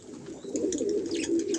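Domestic doves nesting with their young give soft, rounded coos, several close throaty calls running together in a short burst.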